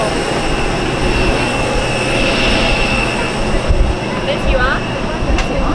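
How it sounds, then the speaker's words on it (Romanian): Steady jet aircraft roar fills an airport apron where planes arrive and depart, a broad continuous rumble heard from outdoors at moderate distance, with faint chatter and a brief whistling tone near the end. "sunt foarte multe avioane care vin, pleacă"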